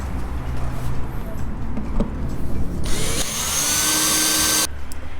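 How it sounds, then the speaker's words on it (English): A power drill bores holes through a sailboat hull during a restoration, an uneven whirring burst that rises into a loud, steady high-pitched grind for a couple of seconds before stopping, amid workshop background noise. "Drilling holes in the perfect good boat."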